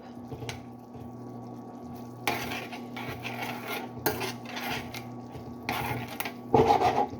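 Butter chicken stirred in a cooking pot with a utensil, steady scraping and clinking against the pot over a low background hum, with a few louder knocks, close and alone without speech.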